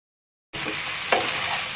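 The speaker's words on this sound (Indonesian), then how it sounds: "Kita aduk-aduk rata sebentar. Kita masukkan udangnya." Shrimp and broccoli frying in a pan, a sudden close hiss of sizzling that starts after a short silence, with one brief stirring scrape midway.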